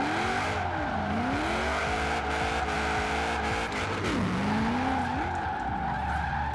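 A 1000HP Holden Commodore Group A drift build slides in the Forza Horizon 4 video game, its engine roaring continuously while the tires squeal and swoop in pitch through the drift.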